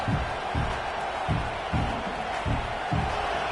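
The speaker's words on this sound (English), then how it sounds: "listen to this crowd noise. This stadium is vibrating." A packed stadium crowd roars continuously at a football game after a defensive hit forces a fumble, a dense wash of voices with rhythmic swells and thumping surges as if fans are stomping or chanting in unison.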